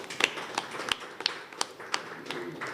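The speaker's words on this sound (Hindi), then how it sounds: "तालियां हो जाए" Sparse, scattered hand claps ring out at an award show as a new NGO president is introduced, a handful of distinct claps spaced irregularly, fairly close and modest in volume.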